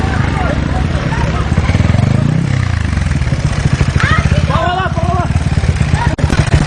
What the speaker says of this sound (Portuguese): Ó a moto!